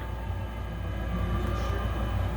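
Model train with pulpwood and wood chip cars running on a layout, a steady continuous rolling hum and rumble throughout, close and without talk.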